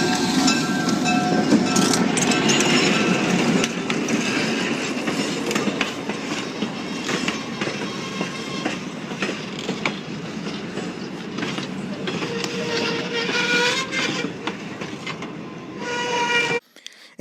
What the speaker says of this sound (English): He's also filmed diesel streamliners.